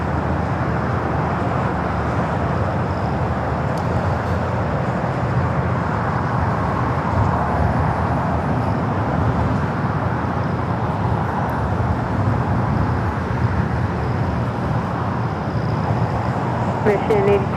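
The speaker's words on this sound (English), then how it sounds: "Lufthansa Flight 456 coming in from Frankfurt," A Lufthansa Boeing 747-8 Intercontinental arriving at LAX on a flight from Frankfurt, heard as a steady, broad jet roar that holds throughout with no clear rise or fall, under faint background chatter.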